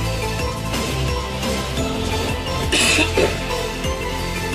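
A short cough bursts out over a steady, dense background hum, with a faint throat-clearing sound just after.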